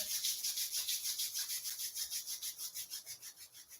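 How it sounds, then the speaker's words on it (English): Palms rubbing briskly together during a yoga class for stress reduction, a close, soft swishing friction repeated in a quick, steady rhythm with no talking. "bring the hands together, rub your hands together."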